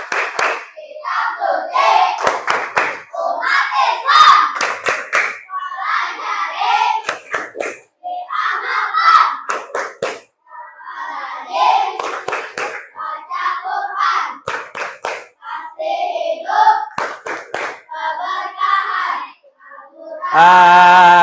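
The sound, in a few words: children doing the Al-Qur'an clapping chant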